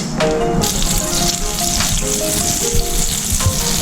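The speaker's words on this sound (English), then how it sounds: "now we're going to put some butter. Let it melt." Butter melting in a pan for French toast gives a loud, continuous sizzle close by, with a bright hiss throughout and no voices.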